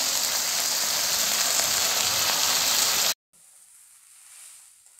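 Washed lentils frying with ginger in a hot pan give a steady, close sizzling hiss for about three seconds, then it cuts off abruptly, leaving only a faint, low background hiss.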